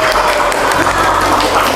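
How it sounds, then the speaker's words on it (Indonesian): A brief, steady burst of applause from children at a Quran school, clapping for a winning group, loud and close with no clear speech. "Berikan tepuk tangan."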